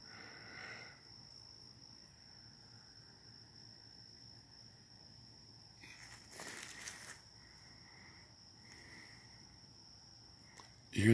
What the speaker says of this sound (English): You hear the dead quiet, nothing but the fucking crickets.